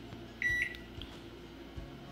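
Amazon Basics microwave giving a single short electronic beep from a button press, faint against a quiet room with light background noise.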